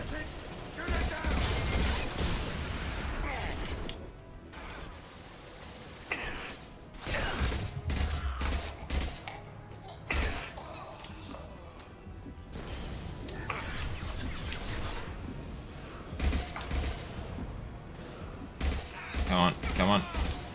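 Gunfire in Mass Effect 2 as shots bring a loose fuel tank crashing down, dense loud bursts of shooting and mechanical clatter in repeated volleys across the scene, with game voices talking over it.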